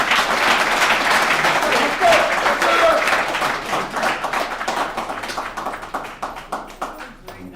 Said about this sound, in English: Let's give Richard another round of applause.